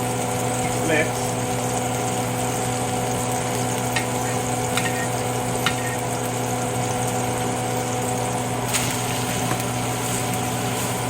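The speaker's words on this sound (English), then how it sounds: "Then let that sear all the way around." Panko and oregano crusted pork sears in a hot pan, giving a steady, close, even sizzle with a low hum under it and a few faint clicks and pops.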